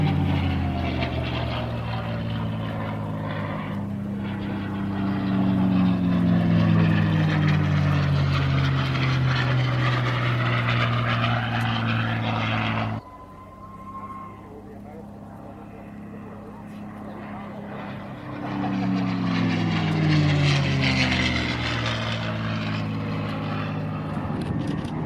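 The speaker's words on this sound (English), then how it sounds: "Classic whine of the Merlin engine at the front there, the B-51." A P-51 Mustang's Merlin engine drones and whines loudly overhead at the Southport Air Show 2024. Its pitch slides downward as it passes, drops away sharply midway, then swells back as the aircraft returns.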